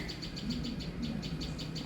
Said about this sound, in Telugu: పైన చూడండి పైన పక్షులు బాగున్నాయి